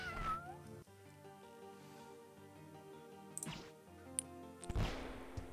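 A cat enemy in the video game Epic Battle Fantasy 4 caterwauls in a long, drawn-out meow over game music, followed by a few sharp clicks and battle hits.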